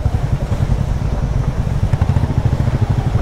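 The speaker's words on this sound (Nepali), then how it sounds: "ओह बुलेट आयो" A Royal Enfield Bullet motorcycle passes on a mountain road, its rumbling, thumping engine steady and fairly close throughout, with no voices.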